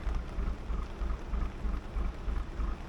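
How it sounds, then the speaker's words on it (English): Rain patters steadily during a boat trip on the River Avon in 2023, with low rumbling pulses underneath, moderately loud and continuous with no talking. "rain once again."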